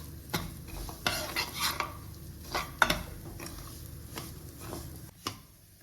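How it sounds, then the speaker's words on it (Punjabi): Broken wheat (daliya) being stirred as it roasts in a pan on a medium flame: a spoon scrapes and clinks against the metal in irregular strokes over a faint dry sizzle, with no voices. "ਮੀਡੀਅਮ ਫਲੇਮ ਤੇ ਭੁੰਨਾਂਗੇ ਉਦੋਂ ਤੱਕ ਭੁੰਨਾਂਗੇ ਜਦੋਂ ਤੱਕ ਜਿਹੜਾ ਦਲੀਏ ਦਾ ਥੋੜਾ ਕਲਰ ਨਹੀਂ ਚੇਂਜ ਹੋ ਜਾਂਦਾ"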